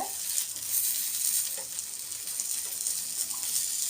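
Tandoori chicken roasts in a hot pan with a steady, bright sizzle and crackle, with occasional soft stirring touches, and no voices over it.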